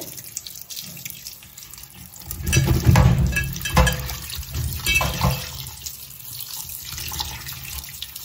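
Dried fish (vanjaram and goraka) rinsed by hand under running tap water in a sink, with steady splashing and a louder burst of agitation in the middle, close and without talk.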